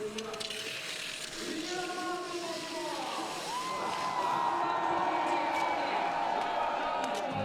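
Spectators cheer and whoop at the finish line of a Paralympic sitting biathlon race at Sochi 2014, a distant swelling roar that grows louder toward the end, with voices calling out over it.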